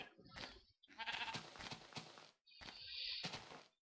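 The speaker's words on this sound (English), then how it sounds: "Why are you here, sheep?" Blocky Minecraft sheep bleat in a short series of wavering calls, three distinct bleats separated by brief gaps, clear and up close with no talk over them.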